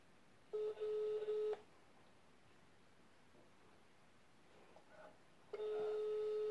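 Outgoing phone call ringback tone, two long electronic rings separated by a pause of quiet line hiss, steady and moderately loud.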